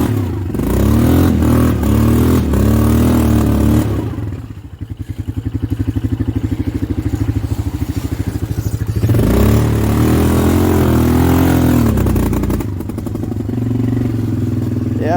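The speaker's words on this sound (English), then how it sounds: "I don't know what that backfire is all about" A Polaris 425 ATV engine runs loud and close throughout, revving and pulling with a rough, uneven note, dropping briefly mid-way before surging again; sharp pops suggest backfiring, with occasional voices underneath.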